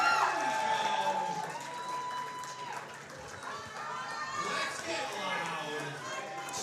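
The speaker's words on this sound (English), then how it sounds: "The crowd's getting behind her." A crowd at a powerlifting national championship cheers and whistles for a female lifter during her attempt. The noise is loud and steady, with shouts rising and falling and a commentator talking over it.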